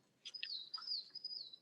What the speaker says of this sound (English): pleasant atmosphere of the birds. Perhaps you can hear them.